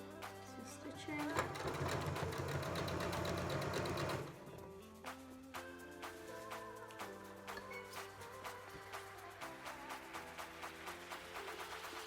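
Sewing machine stitching a tote bag, starting as a steady loud whir, then dropping to a lighter, rhythmic stitching pulse with faint musical tones in the background.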